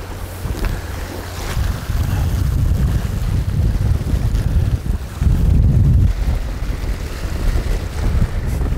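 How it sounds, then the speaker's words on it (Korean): Strong wind roars at sea during winter black porgy fishing, buffeting the microphone in heavy low rumbling gusts with waves and surf churning underneath, no voices. "바람이 더 거세지는데. 바람이 많이 불 때입니다."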